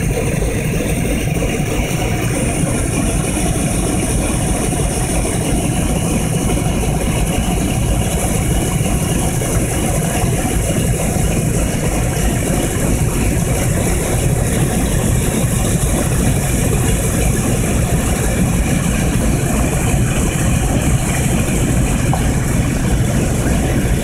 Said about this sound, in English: more of the B-17 startup here